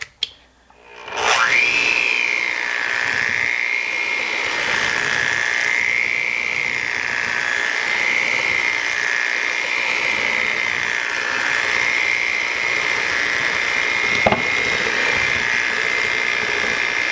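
An electric hand mixer whirs steadily through coffee cake batter with sour cream, starting up after a moment and holding a loud, slightly wavering hum, with a brief clunk near the end.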